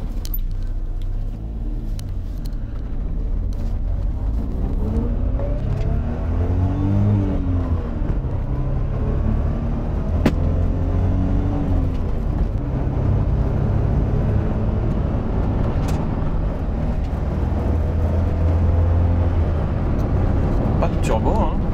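A turbocharged Suzuki Cappuccino engine revs and accelerates in steady, rising sweeps from inside the car, loud and continuous, with someone talking over it.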